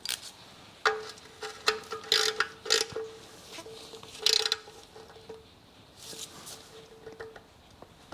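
A ratchet tightens the oil drain plug on a 2010 Mazda 2 1.5 petrol, giving close, quiet bursts of sharp clicking between short pauses.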